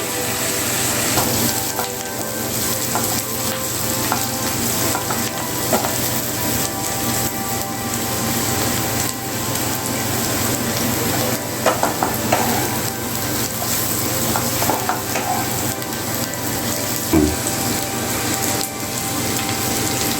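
Onions sizzle in a hot pan over a high gas flame, browning for an Odia chicken curry; a loud, continuous crackling fry with faint scattered pops runs unbroken throughout.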